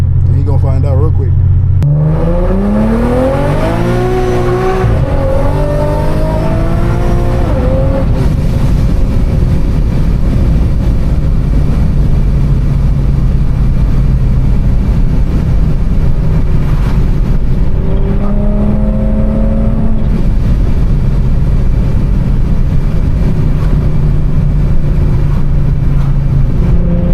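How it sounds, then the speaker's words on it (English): A turbocharged, roughly 700-horsepower Infiniti G37 accelerates hard on the road, engine note climbing through gears with a rising whistle from the turbo, loud and close, with someone talking over it. "Turbo now, you hear that shit whistling down the fucking road"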